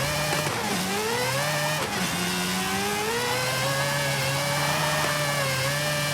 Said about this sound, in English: I swapped out its 4-cylinder engine for a 4-rotor engine